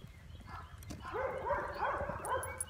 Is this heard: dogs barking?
yes